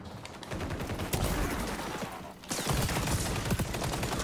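Rapid gunfire in the online shooter XDefiant, dense overlapping bursts and single cracks during a close-range firefight, loud and continuous with a brief lull midway.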